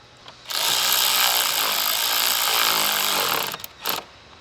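Power driver running a screw in to reinstall the coolant reservoir on a Chevy Silverado 1500 / GMC Sierra 1500 3.0L Duramax, one loud sustained whir of about three seconds, then a couple of short bursts.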